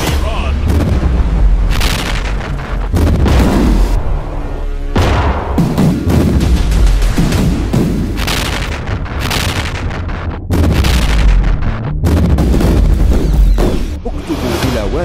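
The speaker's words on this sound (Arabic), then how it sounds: "أطلق النيران" Booming naval cannon fire from a sailing fleet in the Mediterranean, 1821, loud repeated blasts and rumbling volleys in dense succession, mixed with music throughout.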